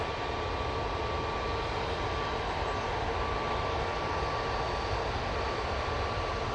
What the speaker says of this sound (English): Got a couple of aircraft approaching.